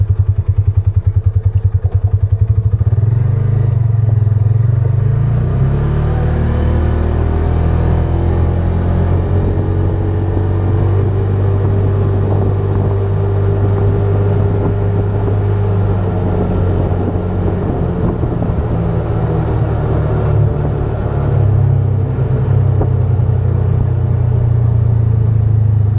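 A Polaris Ranger 570 UTV with a half windshield drives up to about 24 mph in a wind test, its engine a loud, close, continuous rumbling drone that climbs in pitch as it accelerates, with no talking.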